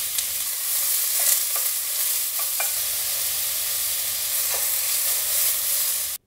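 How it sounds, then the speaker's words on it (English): Chopped onion sizzles steadily in a hot pan for Japanese chicken curry, a close, even frying hiss with a few light stirring scrapes and no voices. "we'll toss in the onion. Now we're going to cook this till it's golden brown"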